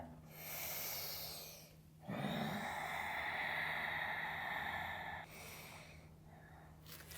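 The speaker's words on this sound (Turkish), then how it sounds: "Derin nefes al. Sakin nefes ver." Deep breathing during an advanced Hanuman yoga practice: a slow, drawn-out inhale and a long exhale, faint and close, with quiet room noise between the breaths.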